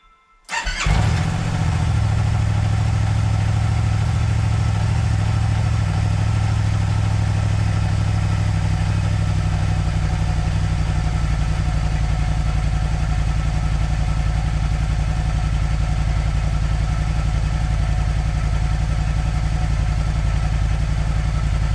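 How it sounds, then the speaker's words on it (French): A small scooter with an aftermarket exhaust fires up with a quick sputter, then settles into a steady, loud, buzzing idle that runs on evenly. "on met le scooter en route."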